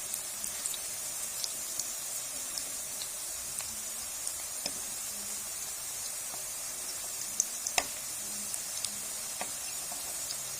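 Kofta frying in a pan over a low flame, a steady close hiss of sizzling oil broken by scattered sharp pops and crackles, with no talking.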